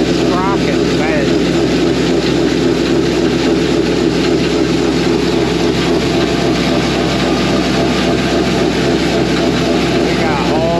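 An auger machine with a bent sprocket runs loudly and continuously up close with a dense mechanical drone and rattle throughout, with a voice briefly audible over it.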